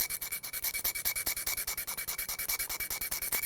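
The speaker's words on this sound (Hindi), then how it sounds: "थोड़ा रगड़ देते हैं ब्लेड से" A metal blade rubs hard and fast against the rusty iron head of a hammer, producing quick, regular back-and-forth scraping strokes, about eight per second, close and steady, with no talking.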